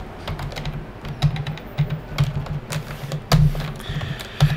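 Rapid, irregular clicks of typing on a computer keyboard, close and fairly loud, with uneven bursts of keystrokes and a few heavier taps.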